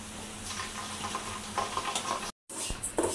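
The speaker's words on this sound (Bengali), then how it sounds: "মুগ ডালটা আমি ভাইজা নিতেছি" Mung dal fries in a pan with a steady close sizzle and crackle, broken by stirring scrapes and a momentary cut in the sound.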